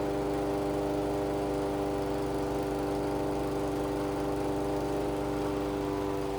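Toro 22-inch Recycler walk-behind lawn mower engine running steadily near 3,000 rpm, a loud, constant drone with a steady buzzing hum, close by and with no variation.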